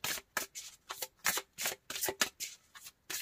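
Tarot cards shuffled for a reading, close and crisp, a rapid series of about ten riffling bursts in an even rhythm with short pauses between.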